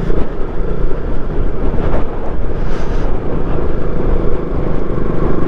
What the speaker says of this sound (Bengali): আর এখানে তো যা হাওয়া দিচ্ছে এই মুহূর্তে